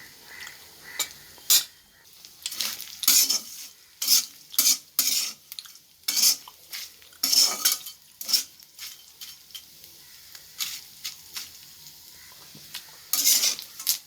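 A spatula scrapes and stirs nethili anchovy dry fish frying in a pan, making a run of sharp, irregular strokes and clatters over a faint background sizzle, close and fairly loud, with no talking.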